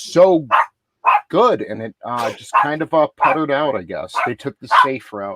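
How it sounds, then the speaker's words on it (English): Several dogs bark in the background of a home, with short woofs mixed under continuous, close conversational speech. "Excuse my dogs,"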